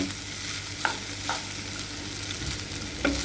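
Garlic, mushrooms and minced pork stir-frying in a pan, with a steady sizzle, a few sharp spatula scrapes and clinks close by, and no voices.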